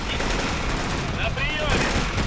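Dense, continuous gunfire in a Russian online tank battle game, a loud unbroken roar of shots and explosions with faint radio-style voices mixed in.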